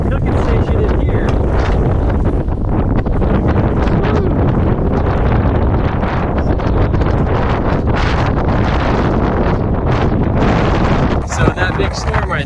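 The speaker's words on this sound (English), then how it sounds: "It's so windy." Strong wind on the Skyway Fishing Pier in Tampa Bay, Florida, after a storm, a loud, constant buffeting roar against the microphone with rattling gusts and no pauses.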